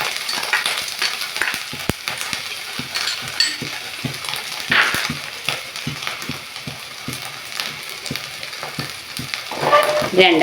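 Curry leaves sautéed in a pan for puli inji, a loud continuous sizzle with brisk scraping stirs throughout, close by.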